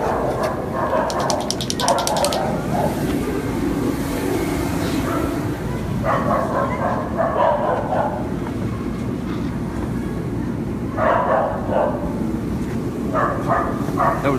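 Dogs at an animal shelter bark in loud, clustered bursts that come and go over a steady background rumble.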